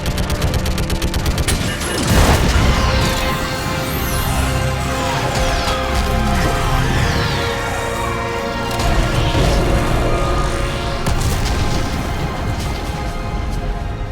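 An orbital strike and gunfire are directed at a live Reaper in the Mass Effect 3 video game: a loud, continuous barrage of gunfire and heavy blasts, with a big impact early on and dense crackling explosions throughout.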